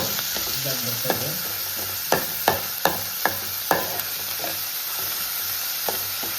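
Prawns frying in hot oil in a pan, a steady sizzle broken by several sharp spatula scrapes and clacks against the pan, close and with no talk.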